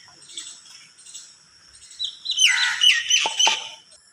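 Sparrows chirp and squawk at a morning feeding spot where bread pieces are scattered, faint calls at first, then a louder burst of overlapping tweets close by, with no talking.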